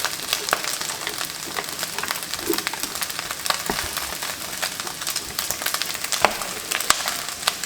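Onion sizzles steadily in a hot pan alongside pork for a steamed bun filling, a close, dense crackle with scattered sharp pops and occasional soft stirring sounds.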